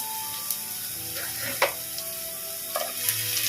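Onion and garlic sautéing in a pan for Korean chilli garlic potato, a steady close sizzle broken by a few sharp scraping and clinking stir strokes.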